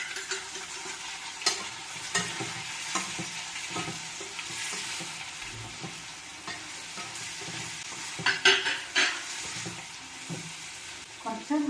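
Onions sauté in hot oil for lemon pickle, sizzling steadily while a spoon scrapes and stirs them around the pan with irregular clinks, close and fairly loud throughout.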